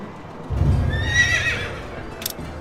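A horse in the video game Quinfall whinnies loudly in a rising, wavering call over a rumble of hoofbeats, with a sharp click near the end.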